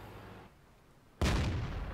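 A heavy artillery shot in a tank video game, a Jagdpanther match against a T-43, lands as a single loud, sudden boom that cuts in after a quiet stretch and rolls on with a rumbling tail.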